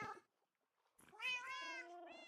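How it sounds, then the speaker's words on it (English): Cats in the Minecraft video game meow close by: one short mew, a brief pause, then a longer drawn-out meow overlapping a second cat. "there's a lot of cats if you cannot hear that already"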